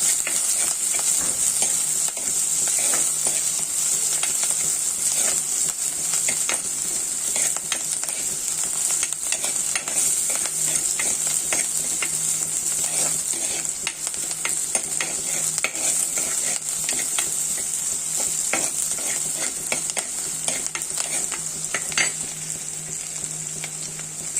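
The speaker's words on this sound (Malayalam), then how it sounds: "പിന്നെ നമ്മുടെ വെളുത്തുള്ളി പിന്നെന്താ ഇടും നമ്മുടെ പച്ചമുളക് എല്ലാം കൂടെ ഇടും ഇത് നല്ലപോലെ ഒന്ന് വഴറ്റിയെടുക്കാം" Garlic and green chillies sauté in hot oil for a Kerala mackerel curry with drumsticks, giving a steady, loud sizzle throughout with frequent scraping stirs of a spoon against the pan and no voices.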